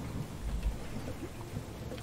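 Steady rain falls in the video game Starbound, a dense continuous hiss with low rumbling underneath, moderately loud and uninterrupted.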